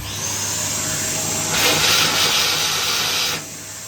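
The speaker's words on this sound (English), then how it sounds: "I'm just going to get the hoover" A hoover sucks dust out of a hole in a plaster wall being prepared for filler, a steady close hiss that swells louder in the middle and cuts off near the end, with no talk.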